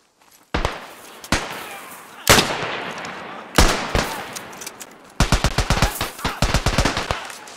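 A Chauchat machine gun fires in the World War I game Beyond the Wire: several sharp separate shots ring out with echoing decay, then a rapid, loud automatic burst closes the stretch.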